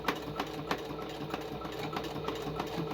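Sewing machine stitching the corner of an envelope journal, a fast steady mechanical whir with regular needle ticks, close and continuous for a few seconds.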